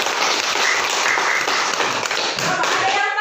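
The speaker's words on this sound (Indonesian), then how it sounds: "Tepuk tangan dulu untuk Sarsa." A classroom claps for a student, a dense, loud burst of many hands applauding steadily throughout, with children's voices mixed in.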